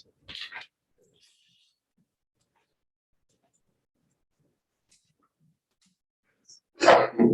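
A single sharp sneeze at the start, then near silence for several seconds before a louder burst of noise at the end.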